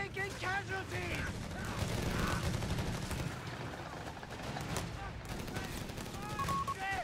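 Chaotic video game battle with rapid machine-gun fire and scattered shots crackling continuously, mixed with mechanical clanks and whistling effects, while voices shout over the din.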